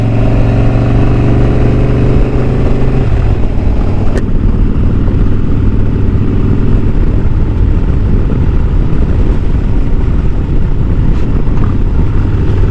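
A Harley-Davidson motorcycle drones loudly and continuously while being ridden, with a deep engine note that drops in pitch after a gear shift partway through and then holds a steady rumble, close to the rider with no voices.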